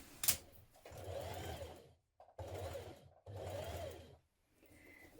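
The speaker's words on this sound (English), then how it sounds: "We're going to be stitching from here in line with the front, around this curve." A sewing machine stitches a shirt seam around a curve in three bursts of steady mechanical whirring, each separated by brief pauses, close and fairly quiet.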